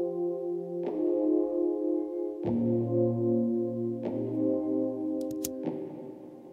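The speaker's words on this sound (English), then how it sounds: "the keys come in, the electric piano, and on its own, it sounds like this." Electric piano keys in a music production play smooth, warm, filtered sustained chords alone, changing on the beat with several soft attacks.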